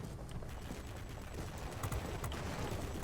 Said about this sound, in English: these 4 20mm cannons actually do some nice work